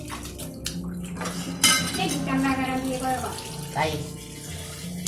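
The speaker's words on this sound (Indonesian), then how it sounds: "Kita cuci dulu berasnya." Rice washed in water in a pot clatters and splashes, with metal pot and utensil knocks and swishing water under intermittent talk.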